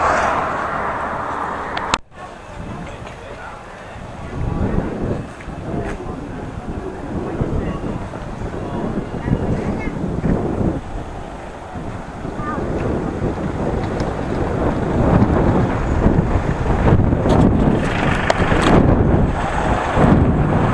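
Wind buffets the microphone in a steady roar, rising and gusting, with road or vehicle noise underneath and a person speaking briefly.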